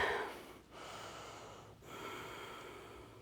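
Slow, deep breaths during a yoga class while sitting back on the heels; airy inhales and exhales, close and soft, in two or three long cycles with no talk.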